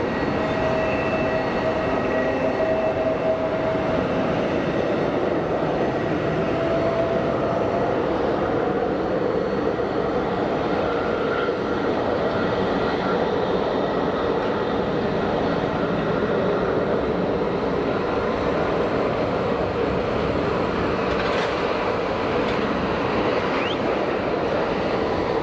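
Aircraft at Geneva Airport rolling toward the runway 04 holding point, a steady broad engine roar lasting throughout at moderate distance, with no talk.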